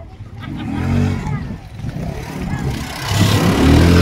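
A motorcycle engine revs in rough, low rumbling surges that swell and fade and grow louder toward the end, with voices talking faintly over it.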